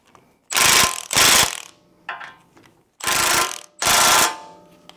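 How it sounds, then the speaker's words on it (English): An impact wrench on its lowest setting tightens a new Toyota ball joint, firing in loud close rattling bursts: two long hammering runs, a short weaker one, then two more long bursts, separated by near silence. "This puts it about 65 foot-pounds, this impact on number 1 setting."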